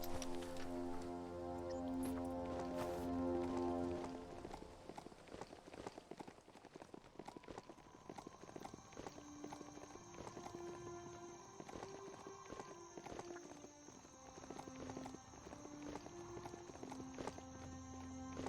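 Hoofbeats of a goat mount trot along in the video game Biomutant, a steady clip-clop running under layered game music, faint and rhythmic throughout with a brighter musical passage at the start.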